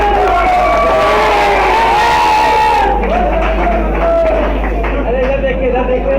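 A crowd cheers and applauds at a prize distribution for a high-flying pigeon tournament, loud continuous noise with a voice over a loudspeaker and a steady low hum.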